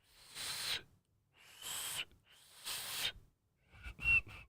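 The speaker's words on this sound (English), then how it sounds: "whistling on the inhale" Four breathy whistled notes drawn in on the inhale, each airy and wavering with pauses between, quiet and close.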